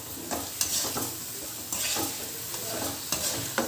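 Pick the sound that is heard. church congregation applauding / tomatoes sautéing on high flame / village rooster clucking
tomatoes sautéing on high flame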